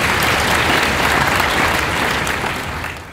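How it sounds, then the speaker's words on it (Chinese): A large audience at the opening ceremony of the 39th Asia International Stamp Exhibition in Taipei breaks into loud, dense, sustained applause that fills the whole stretch and eases slightly at the end. "给他们一个热烈的掌声。"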